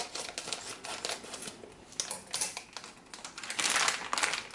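Scissors cutting open a plastic package of vegan spring roll wrappers, close-up crinkling and snipping in irregular bursts, with no talking.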